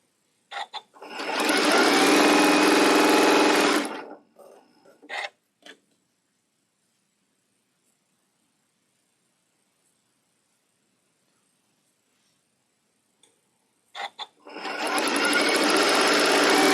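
A sewing machine running at slow turtle speed, stitching a quilt block seam, in two loud steady bursts of several seconds each, separated by a long quiet pause.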